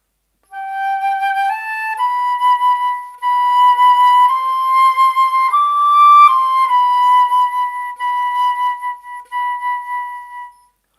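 A single flute plays a slow, simple melody alone, clear sustained notes stepping up and down with short breaths between phrases.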